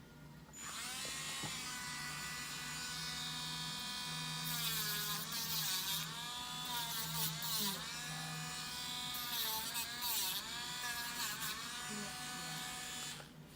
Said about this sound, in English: Go back to our Dremel. Small drum sander.